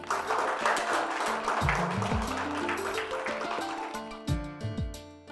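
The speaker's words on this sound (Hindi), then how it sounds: "जोरदार तालियों से आप दोनों का स्वागत करें।" Audience at a stage award ceremony applauding steadily and loudly throughout as two guests are welcomed, with music with sliding tones playing over the clapping.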